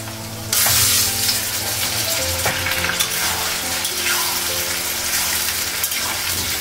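Goat meat dropped into a pan of fried onions for a Bengali curry bursts into a loud, sudden sizzle that stays as a steady close crackle, with a few utensil clinks and no voices.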